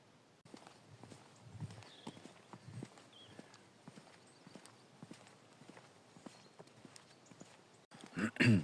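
A donkey's hooves clip-clop on a small paved country road in France, a close, slow, irregular walking rhythm of light knocks with soft breathing, and a brief louder rustle at the end.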